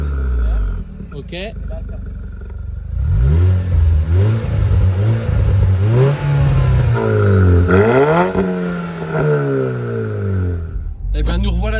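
A Range Rover engine with its exhaust valves open revs loud and close, climbing and falling through several throaty sweeps over a steady idle.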